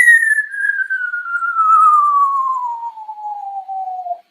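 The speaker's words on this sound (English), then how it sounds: "They make lovely long whistling noises." A seal whistling beneath sea ice: one long, pure, clear tone gliding steadily downward for about four seconds, loud and close, with no other sound around it.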